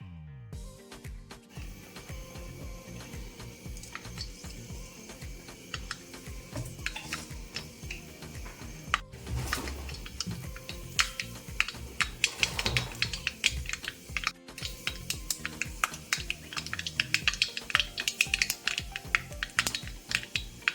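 Mustard seeds spluttering in hot sesame oil, a fast crackle of sharp little pops that begins sparse and grows denser and louder as the seeds burst.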